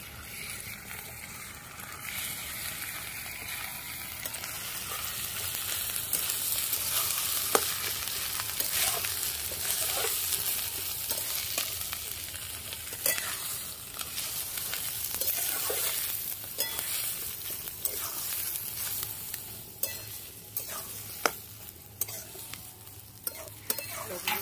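Ground boiled cabbage paste hitting a pan of fried garlic and being stirred, a continuous wet sizzle with scraping stir strokes and occasional sharper spatters, close and fairly quiet, no talking.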